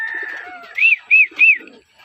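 Racing pigeons in flight training give three short rising whistled calls in quick succession, fairly close and clear over a quiet background, with softer chatter and faint sounds before them.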